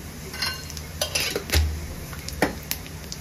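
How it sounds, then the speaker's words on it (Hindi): Whole cumin seeds dropped into hot mustard oil in a pan, giving a faint crackling sizzle with a few clinks of a utensil against the pan, close and steady. "तो तेल ऑलरेडी गर्म है तो मैं इसमें डाल रही हूँ 1/2 टीस्पून साबुत जीरा"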